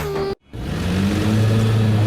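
A car engine hums steadily after a sharp cut, its tone shifting as the vehicle slows and idles, with no talk over it.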